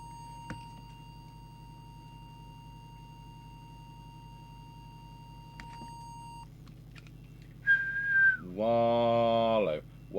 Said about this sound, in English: Let's give that a whistle test.